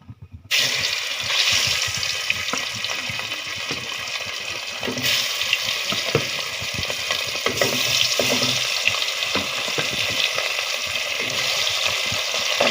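Surma fish sizzles and crackles steadily in hot oil in a pan, a loud, dense frying hiss with occasional stirring clicks and no voices.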